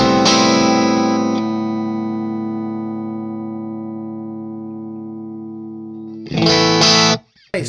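An electric guitar played through the deluxe reverb side of a Fender amp rings out in a strummed chord that sustains and slowly fades, then a second loud strum cuts off abruptly.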